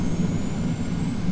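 Twin jet engines of a TFDi Boeing 717-200 in the Prepar3D v4 flight simulator running at takeoff thrust, a steady loud roar with a deep low rumble and faint high whine, unbroken throughout.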